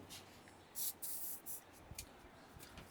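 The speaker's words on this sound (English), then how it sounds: "So you spray it with what do you call it, WD-40" WD-40 aerosol lubricant sprayed onto a cutter in a workshop to keep aluminum from sticking: two or three short hissing bursts, close and fairly quiet, over a low background hum.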